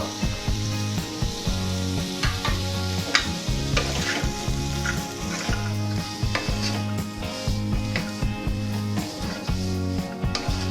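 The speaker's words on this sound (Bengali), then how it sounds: "আমি গাজর আর বিনসটাকেও দিচ্ছি এটাকেও আমি আরও এক মিনিট ভাজবো" Carrots and beans fry over low heat in a pan for a vegetable stew, a steady close sizzle broken by repeated scraping stir strokes and light clinks of the spatula against the pan, with no voices.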